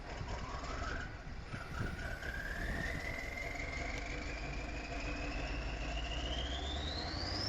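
A tractor engine in Farming Simulator 19 winds up loudly and steadily, its pitch climbing slowly over several seconds in a long continuous rising whine above a constant low rumble.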